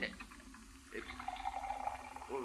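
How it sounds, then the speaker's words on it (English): Water poured into a glass as a sound effect in an old-time radio drama, a faint gurgling trickle that rises in pitch as the glass fills, heard alone without talk. "Just pouring a glass of water for you."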